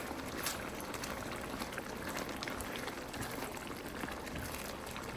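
A pot of shrimp curry simmers and bubbles with a dense, steady burble close by, and no voices are heard over it.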